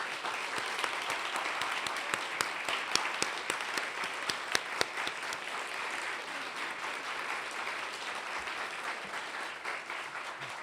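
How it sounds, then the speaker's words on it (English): Audience applause for hospital NHC staff at a healthcare conference session, a dense steady crowd clapping sustained for the whole stretch with sharp individual claps standing out, no voices over it. "please stand up to give them a round of applause for all their work"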